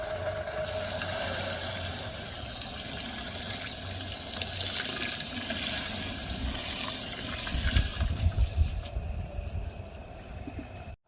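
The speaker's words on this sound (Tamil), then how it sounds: "ஸோ அப்போ தண்ணி எக்ஸ்ட்ரா எவ்வளோ தேவையோ ஊற்றிக்கலாம்." Water pours steadily into a large batch of grape juice, a continuous splashing hiss with heavier gurgling toward the end, moderately loud and close, with no talk.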